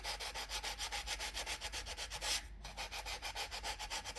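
Steady back-and-forth sanding over the edges of a handmade wall sculpture, a rhythmic rubbing scrape of about four strokes per second, close and fairly quiet, with one brief pause in the middle and no voices.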